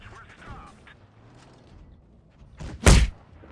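A single loud, close tank cannon shot lands as a heavy thump on an enemy in World of Tanks Blitz, rising abruptly out of quiet low engine rumble and game noise.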